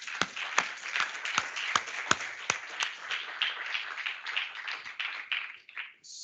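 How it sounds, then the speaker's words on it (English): An audience applauds, a dense patter of many hands clapping at moderate volume that fades out at the end. "Can we give them a round of applause?"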